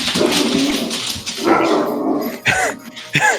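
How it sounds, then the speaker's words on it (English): A German Shepherd barks indoors at something down a hallway, giving a few sharp, fairly close barks and yips over a noisy room background, with a voice faintly mixed in. "it's my German Shepherd. He probably saw something down the hallway."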